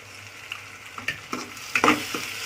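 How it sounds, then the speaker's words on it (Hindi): Spices stirred into frying eggplant bharta in a pan, close crackling sizzle broken by several scraping stirs and spoon knocks at an uneven pace. "इसको हम अच्छे से मिक्स कर लेंगे।"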